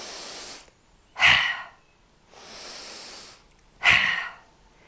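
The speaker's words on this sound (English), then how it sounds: "when you breathe out, you want to breathe out really hard" Two forceful exhales during an energy breathing exercise, each a sharp close blast of air, alternating with softer hissing inhales in a slow in-out rhythm.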